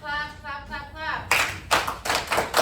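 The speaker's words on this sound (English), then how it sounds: "Alright, clap." Students clap together in a classroom, a few loud group claps in uneven bursts following a teacher's voice at the start.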